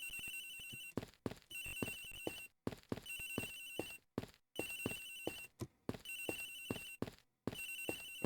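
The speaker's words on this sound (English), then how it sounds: "Agent Hicks's phone. It's ringing from somewhere, sir." A cell phone rings in the video game Ace Attorney Investigations, a repeating electronic ringtone in regular bursts separated by short pauses, clear and alone without speech.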